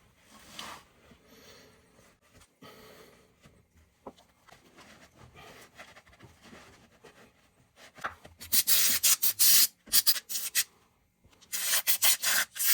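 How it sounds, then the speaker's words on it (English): Someone wipes down parts of a 2g Eclipse GSX during a CV axle replacement with rags, making soft scattered rubbing at first and then louder, harsher bursts of scrubbing near the end. "I'm gonna do some wiping down first"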